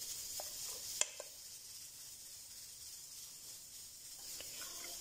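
Spices being stirred into a bowl of yogurt for mutton karahi. Faint, soft stirring scrapes with one small sharp tap, all quiet beneath a steady hiss from the kitchen.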